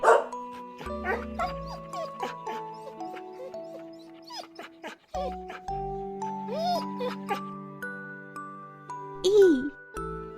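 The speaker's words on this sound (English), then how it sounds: "D is for dog." A cartoon dog gives a few short barks mixed into cheerful chiming music, with a child-like voice talking over parts of it in an alphabet lesson.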